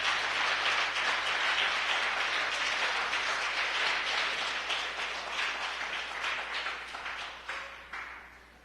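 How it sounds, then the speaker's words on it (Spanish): A church congregation applauds loudly and steadily for several seconds, the dense clapping slowly thinning and fading toward the end with no voices over it. "Dale un fuerte aplauso a Él"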